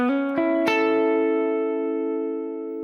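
A guitar with a capo high on the neck rings out a D-shape chord, a few quick plucked strikes followed by a bright chord that sustains and slowly fades, heard alone.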